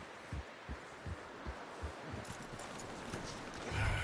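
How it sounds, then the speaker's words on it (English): Steady clopping hooves of a horse in Red Dead Redemption 2 at a walking pace, fairly close, with a soft rustling background and a louder thump near the end. "You should really tether that horse, Arthur."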